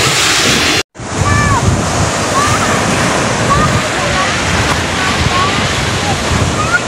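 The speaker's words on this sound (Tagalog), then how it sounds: "dito kami sa dagat" Sea waves wash steadily onto the shore at Talosa, Leyte, loud and continuous with wind buffeting the microphone, after a brief dropout at the start; birds chirp faintly in the background.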